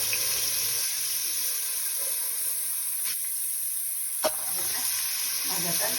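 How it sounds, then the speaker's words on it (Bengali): Small diced potatoes mixed with salt and turmeric frying in hot oil, a steady close sizzle throughout with a couple of sharp clicks from a spatula or pan, no voices. "তারপরে আলুটাকে মধ্যে দিয়ে লবণ হলুদ মেশানো আলুটাকে ভেজে নিচ্ছি।"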